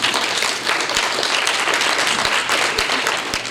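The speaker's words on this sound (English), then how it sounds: "Let's give each of the students in this division a round of applause." An audience at a school Martin Luther King Jr. program gives a sustained round of applause for students, a loud, even roar of many hands with a few sharper claps popping through.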